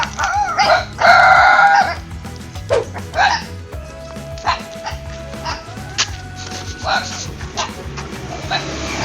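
Hungry street dogs barking in Thailand, several sharp barks in short bursts amid busy outdoor background noise, with roosters crowing and a person talking nearby.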